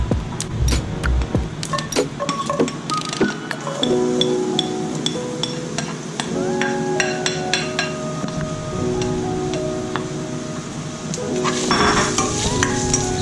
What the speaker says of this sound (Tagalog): So pag mainit na yan, yung oil natin, ilalagay na natin yung onion and garlic natin.